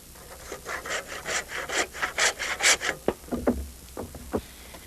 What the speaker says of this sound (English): to polish off the cut, I'm using a handsaw